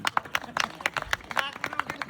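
Audience members clap in a loose, uneven rhythm during a lively indoor party game, a string of sharp nearby hand claps over about two seconds with voices mixed in.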